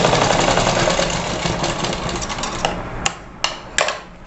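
A sewing machine runs a long, steady stitch through net blouse fabric, a loud continuous mechanical whir that stops, followed by three short sharp clicks.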